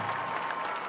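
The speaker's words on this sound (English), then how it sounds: "Please give all our seniors and family members a big round of applause for their efforts and dedication to the Mighty Trojan Band" Audience applause and crowd noise at a Waco ISD high school football game honoring seniors and families of the Mighty Trojan Band, a steady, broad wash of clapping throughout, fairly distant.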